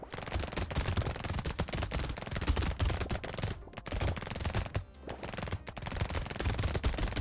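Constant rapid gunfire from the video game Brotato, dense and crackling, runs without pause over the whole stretch at a fairly even loudness.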